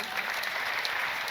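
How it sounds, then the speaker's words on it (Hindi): Audience applause at a Hindi kavi sammelan poetry recital, a steady, dense burst of clapping from a crowd, loud and continuous throughout with no talk over it. "एक बार खुल के ताली बजाइए"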